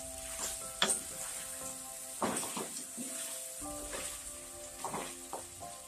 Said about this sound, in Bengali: এখন ভালো করে নাড়াচাড়া করে